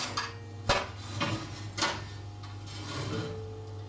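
A lid goes onto a pot of hare à la royale: a few sharp metallic clanks and knocks against a low kitchen hum, fairly close and moderately quiet.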